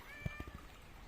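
A house cat gives a single brief, faint meow close by, followed by quiet room background.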